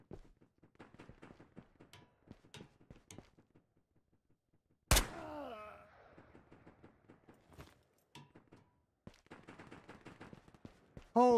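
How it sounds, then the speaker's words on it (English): Gunfire in the video game Ghosts of Tabor: one sharp, loud shot bursts out mid-clip and rings off, with scattered rapid pops and clicks before and after, plus a louder burst at the very end. "Gunshots everywhere."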